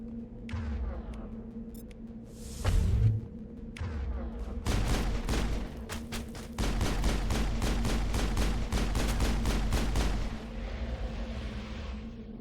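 Gunfire in the video game Mass Effect on Xbox 360: a scattered shot, then a long run of rapid, loud automatic bursts in a sharp rhythmic volley before tapering off.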